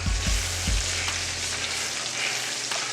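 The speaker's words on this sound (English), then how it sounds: "Gonna put a couple tortillas in there and let them get nice and crispy on one side." Tortillas fry in a little oil in a pan, giving a steady, close hissing sizzle with a few low thumps at the start, and nobody speaking.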